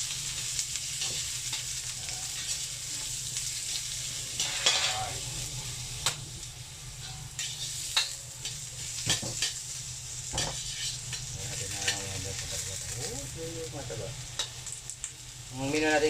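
Garlic sautéing in a pan while cooking beef papaitan, a continuous close frying sizzle with repeated clinks and scrapes of a utensil against the pan, no voices.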